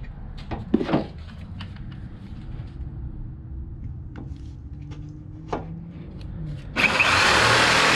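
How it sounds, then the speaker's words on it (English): A drill bores through tack welds on a Honda EG chassis during a K-swap motor mount job. It opens with scattered taps and knocks, then the drill whirs in loudly and steadily near the end. "I'm gonna hit all the tack welds with the drill."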